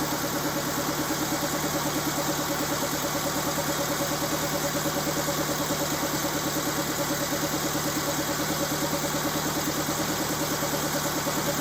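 A 1929 Ford Model A Roadster Pickup engine runs steadily at idle, an even mid-pitched chug with a fast regular pulse that holds unchanged throughout, close and moderately loud with no talking.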